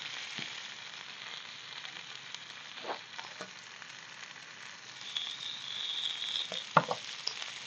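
Belly pork frying in a pan over a camp cooker in a cemetery, a quiet, steady sizzle with occasional louder spits and crackles that build slightly toward the end.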